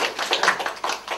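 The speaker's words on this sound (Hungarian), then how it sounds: "Egy nagy tapsot kérek." Wedding guests applauding together, a dense burst of many hands clapping at a steady loud level that holds throughout with no talk over it.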